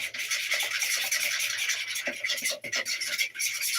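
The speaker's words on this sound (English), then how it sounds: "I'm just going to whisk it together real quick" A fork whisks a mixture in a bowl until smooth, giving a steady, close scraping and rubbing sound with quick repeated strokes that carries on without a break.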